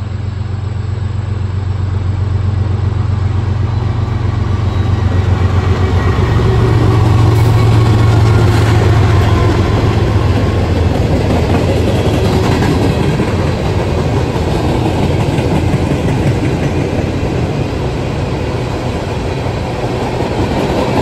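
Southbound freight train X561 passing close by at a trackside viewing spot, a loud continuous roar of engine and rolling wagons with rhythmic clatter sustained throughout.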